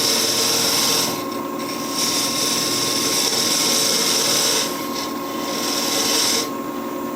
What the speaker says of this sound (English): We'll part this one off with just the parting tool again.